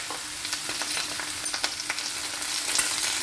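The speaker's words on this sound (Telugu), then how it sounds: "ఆ 3 కొంచెం వేగాక తరిగి ఉంచుకున్న బీరకాయ ముక్కలు వేసుకోవాలి" Chopped ridge gourd pieces frying in a tempering with dried red chillies give a steady sizzle, broken by scattered sharp crackles and stirring clicks, close and fairly loud with no voices.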